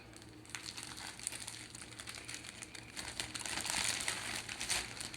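A plastic bag filled with water, closed with a rubber band, is set over vegetables, giving continuous close crinkling and rustling that swells louder toward the end.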